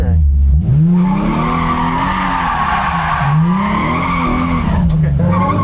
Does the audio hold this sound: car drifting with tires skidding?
yes